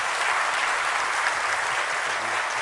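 Warm, sustained audience applause closing a talk show with Seoul mayor Park Won-soon in 2017, a dense even wash of clapping with no break.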